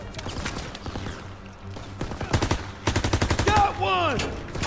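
Rapid bursts of MP 40 submachine gun fire in the Call of Duty WW2 game, several quick volleys of loud, close shots with a louder run near the end and a brief tonal game effect after.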